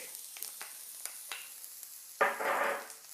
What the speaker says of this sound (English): Then when it's nice and hot, you're gonna go ahead and add garlic.